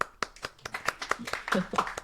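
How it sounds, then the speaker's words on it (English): Scattered audience clapping at a Web3 media talk event, a thin round of separate hand claps with audible individual strikes, fairly sparse and moderate in level, with faint voices underneath. "Alena, round of applause to Alena."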